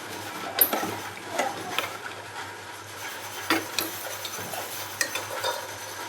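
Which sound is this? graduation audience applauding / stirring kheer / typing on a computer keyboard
stirring kheer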